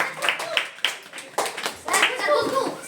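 Children in a school classroom clapping for a classmate, a few sharp claps spaced in a loose rhythm, with voices talking over and after them.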